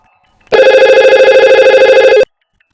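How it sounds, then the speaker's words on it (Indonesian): Telephone ringing while calling extension 22 over a router-linked phone system between two buildings: one steady, loud electronic ring lasting under two seconds, starting and stopping abruptly, with silence on either side. "ini kita coba telepon 22 ini"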